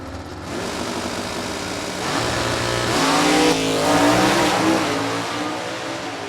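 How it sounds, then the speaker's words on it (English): Drag racing cars, a 1967 Ford Fairlane with a 427 and 4-speed against a Mustang, accelerate hard down the strip, engines roaring loud and close and rising in pitch as they gear up. "Johnson's 427, 4-speed, 67 Fairlane. And Nick Morris up in the Mustang."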